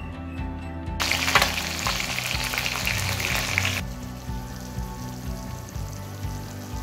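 Pabda fish coated in mustard oil frying in a pan, a loud continuous sizzle that swells and spits for a few seconds, then drops to a steadier, quieter crackle with no one talking.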